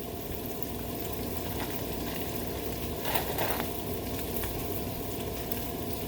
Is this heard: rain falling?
no